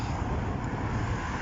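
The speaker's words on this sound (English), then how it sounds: "sorry about the noise, especially now I'm going under the bridge, there's a lot of traffic." Steady, loud road traffic rumbles beneath a bridge, a dense unbroken roar mixed with wind buffeting a walker's microphone, with no pauses or distinct passing vehicles.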